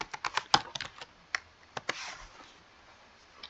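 Typing on a computer keyboard while designing a St. Patrick's Day social media graphic: a quick cluster of crisp, close key taps, a pause, then a few more taps, with no speech.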